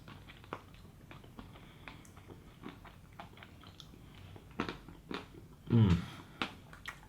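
Close, quiet bites and chewing of a Magnum Double Sunlover ice cream bar with a chocolate coating, a few crisp crunches, one louder crunchy bite standing out near the end; no talking.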